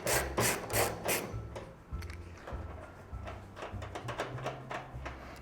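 A deep socket works a nut off a stove terminal screw while installing a three-prong cord on a Frigidaire stove, giving close, repeated rubbing and ratcheting scrapes in short uneven strokes.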